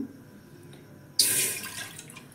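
Water pours suddenly into a pressure cooker holding rice, a loud close splashing rush that starts after a quiet moment and keeps going without talk.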